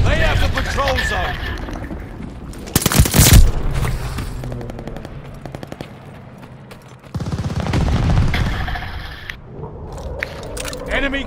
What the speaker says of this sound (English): Enemy glide bomb incoming. Yep, that went in close.